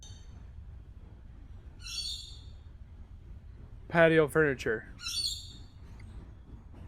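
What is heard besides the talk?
bird calling agitatedly outside at night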